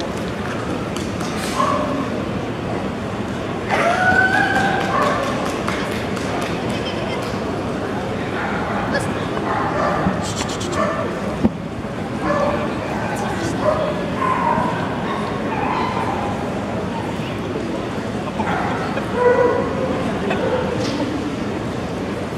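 A grand griffon basset vendéen dog barks repeatedly, with yips and whimpers in between. The barking is close and lively throughout, over a steady background with voices mixed in.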